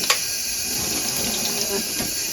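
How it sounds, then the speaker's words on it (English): Water runs steadily from a tap while dyed yarn is rinsed, a close, continuous hiss and splash with faint handling noises. "So I'm going to rinse this through a couple of times"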